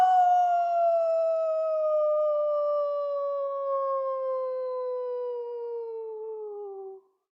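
At a moon-cycle howling circle, people imitate wolves with one long, drawn-out howl that sinks gradually in pitch over about seven seconds before stopping abruptly. The howl is heard alone, close up and without speech.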